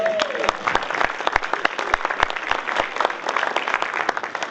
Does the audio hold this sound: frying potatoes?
no